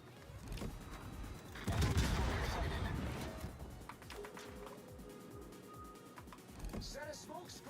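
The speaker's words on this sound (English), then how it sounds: "Oh, he's firing HE at me" Naval gunfire and shell impacts in World of Warships, an enemy battleship lobbing HE shells; a heavy rumbling blast swells early, then scattered thuds and splashes follow, with a voice talking over them.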